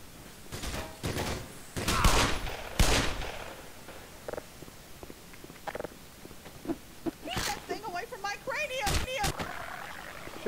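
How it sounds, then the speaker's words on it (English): Automatic gun turrets in Black Mesa fire in sharp irregular bursts of loud cracks and clatter, scattered across the stretch among game noise, with someone talking over much of it. "What with the auto guns and stuff that kills everything!"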